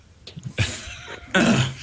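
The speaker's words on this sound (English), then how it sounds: "clear my throat for the last 10 minutes" A person coughs and clears their throat, several rough bursts close to the microphone, the last one loud and harsh.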